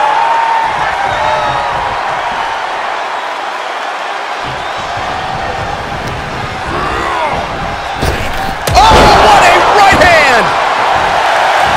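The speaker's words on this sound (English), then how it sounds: "The sound of this crowd is deafening" Crowd noise in the WWE 2K22 game, a loud continuous arena roar from the whole clip that swells and grows louder near the end, with a wrestling commentator speaking over it.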